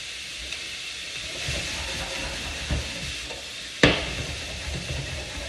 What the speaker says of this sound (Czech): To se musí smažit, nesmí se dusit, jo.